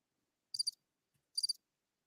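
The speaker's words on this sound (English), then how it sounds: "I mean, you can have the crickets all you want, Stephen." Two short cricket chirp trills, each a quick burst of three or four high pulses, ring out clearly against near silence with a pause between them.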